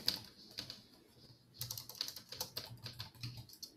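Keys on a computer keyboard tap out a search word in short, irregular bursts of sharp clicks, sparse at first and then quicker and denser, close to the microphone with no voices.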